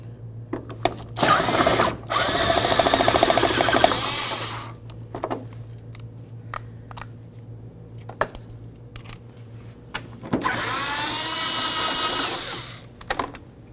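A hand ratchet loosening headlight mounting bolts on a 2008-2013 Nissan Rogue, close up: two long runs of rapid clicking ratchet strokes separated by scattered metallic ticks and taps, over a low steady hum.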